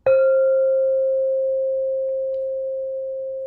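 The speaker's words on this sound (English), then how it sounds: "Allow me to sound my bowl." A meditation singing bowl struck once, giving a single clear ringing tone that starts with a soft strike and sustains smoothly, slowly fading over several seconds in a quiet room.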